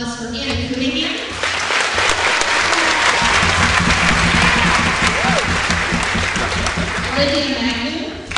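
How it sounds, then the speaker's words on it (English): An audience at a spring school concert applauds a soloist, loud sustained clapping that swells quickly and holds, with a voice speaking briefly at the start and end. "Let's give a round of applause for Anna Cunningham."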